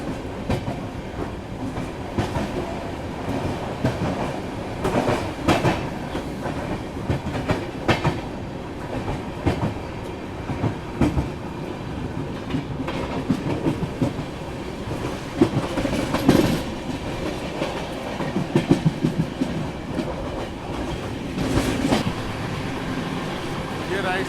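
Rajdhani Express passenger train running through Yelahanka Junction without stopping, a steady loud rumble of wheels and rolling coaches with rhythmic clickety-clack over rail joints throughout, close to the track.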